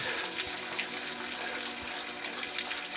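Water trickling and splashing steadily from a natural spring beside a tree outdoors, a continuous close, bright running flow with no voices.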